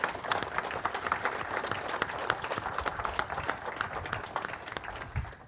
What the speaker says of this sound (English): Can I get a round of applause for my panel